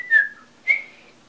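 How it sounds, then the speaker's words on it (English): A child whistles two short rising-then-level notes, clear and close, with a brief pause between and no talk. "loves to whistle"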